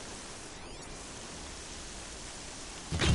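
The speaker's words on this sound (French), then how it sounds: "Je vais rien entendre avec cette pluie." Heavy rain falling as a dense, even hiss, close and continuous, swelling louder in the final moments.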